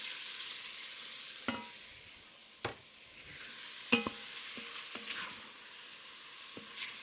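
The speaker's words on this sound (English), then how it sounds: "next I'm going to really quickly just barely fry off the shrimp" Shrimp, some whole and some halved, fry quickly in a pan, giving a steady soft sizzle throughout with a few sharp clicks and taps of stirring.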